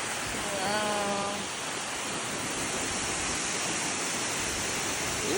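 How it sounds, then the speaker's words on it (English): Steady, loud rush of a waterfall on a family hike, a continuous broadband roar filling the scene, with a brief whistle-like tone early on and no talk. "Bye, waterfall."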